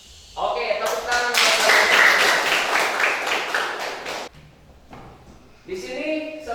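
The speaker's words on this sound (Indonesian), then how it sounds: "Oke, tepuk tangan." A class of students applauds at the close of a classroom lesson: dense clapping mixed with voices swells for about four seconds, fades briefly, then picks up again.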